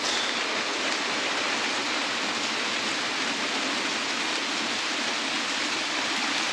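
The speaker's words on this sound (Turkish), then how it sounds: "Toronto'da yağmurlu bir gün." Steady rain on a rainy day in Toronto, a dense, even hiss of falling water that continues unbroken and fairly loud throughout, with no voices.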